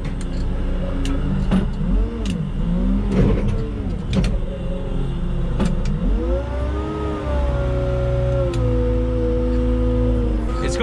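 A Manitou telehandler's diesel engine runs close by with a steady rumble, its pitch rising and falling as the hydraulics work, and nobody speaks over it.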